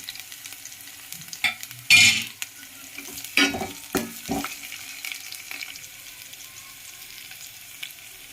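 Crushed garlic, green chilli and curry leaves dropped into hot oil for a garlic and tamarind rasam, giving a few sharp bursts of spatter and sizzle followed by quieter frying and stirring, close by and without voices.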